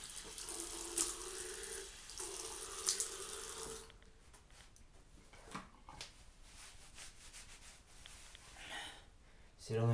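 Water runs from a tap in a steady hiss, with splashing and handling noises as the flow changes while hair is wetted; soft rubbing sounds follow.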